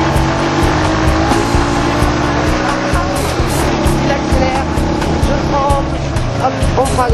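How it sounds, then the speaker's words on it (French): Car engine pulling hard uphill on a road in Thailand, a loud continuous drone filling the clip with no break; a faint voice sits underneath. "Il accélère, je tremble."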